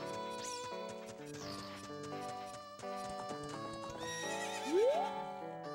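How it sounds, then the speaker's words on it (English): Horses at Lon Lon Ranch in The Legend of Zelda: Ocarina of Time neigh and whinny over the game's ranch background music, with one rising whinny standing out near the end. "there are all these horses here."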